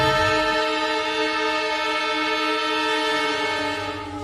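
A train at the railway station in Madhubani sounds a long, loud, steady horn held close by for several seconds over rumbling wheels, fading slightly at the end.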